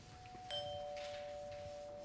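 A doorbell rings indoors with a single clear ding tone that sustains and fades, fairly quiet and alone with no voices.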